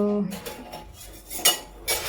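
Steel dishes, pots and cutlery clink and clatter as they are handled and stacked away in a home kitchen, with a few sharper knocks standing out near and fairly loud.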